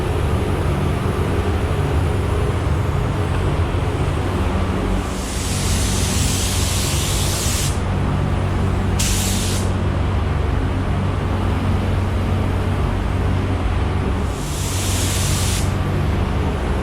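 Spray gun laying a coat of paint onto a Kia bumper, three broad hissing bursts of a few seconds each over a steady low background hum, close and fairly loud with no talking.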